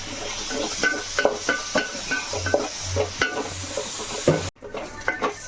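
Chopped tomatoes sauté with onions in a pan for a Kerala-style roasted chicken curry, giving a soft sizzle under repeated scraping stirs and clinks of a spoon against the pan at close range.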